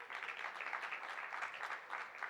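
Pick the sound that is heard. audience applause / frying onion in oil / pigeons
audience applause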